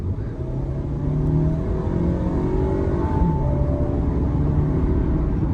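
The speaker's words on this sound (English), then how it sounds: "This is how you need to rev this." An Audi Q3 Sportback S-Line engine revs up, a loud close rising drone with tones climbing and settling across several seconds.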